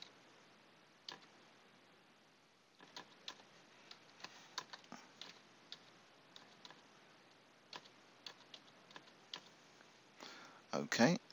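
Clicks of a computer keyboard being typed on while entering equipment information into asset-management software, faint and scattered taps across the clip with a louder burst of keystrokes near the end.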